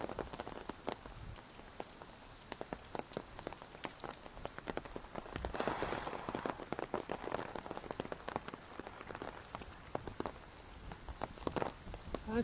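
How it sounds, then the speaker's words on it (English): Rain falling on a dark, foggy day in Hong Kong, a steady close patter of drops striking a surface with frequent sharper taps, fairly quiet and without voices. "Man, it's raining."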